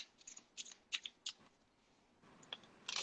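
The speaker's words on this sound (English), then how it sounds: "Shuffle the deck." A normal deck of playing cards being shuffled, with several quiet, crisp riffling snaps in short bursts and a brief louder flurry at the end; close but faint, with no talking.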